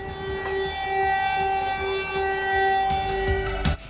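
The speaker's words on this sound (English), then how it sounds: "the church bells went off and a loud siren played" A loud, steady siren wails with sustained tones at the Prague changing of the guard, while church bells ring out toward the end.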